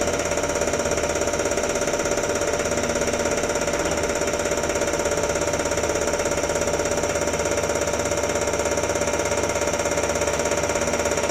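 A diesel engine held at a steady 750 rpm idle on a test bench, a loud constant drone with a fine rapid knock running evenly throughout; no talking.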